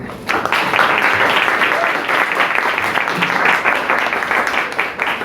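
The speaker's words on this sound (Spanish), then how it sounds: "Le damos un fuerte aplauso a nuestros invitados" An audience at a book presentation applauds invited guests, a steady, dense round of clapping that fills the whole stretch at close range.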